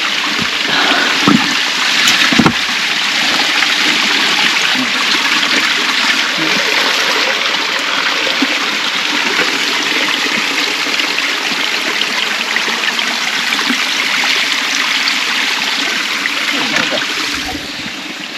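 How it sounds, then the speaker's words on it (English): Excess water pours steadily out of the bottom of a pipe into a creek, a loud continuous rushing splash that holds up for the full stretch with no talking over it. "It's all excess water flowing out the bottom there."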